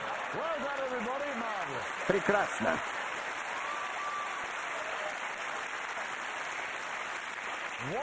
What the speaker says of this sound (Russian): За что вы им хлопаете?